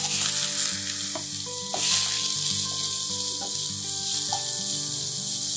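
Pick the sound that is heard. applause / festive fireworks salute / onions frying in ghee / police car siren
onions frying in ghee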